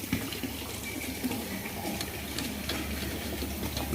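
An oil filling machine dispenses liquid in a steady, pouring wash of running fluid, close and moderately loud, continuing without pause and without any talk.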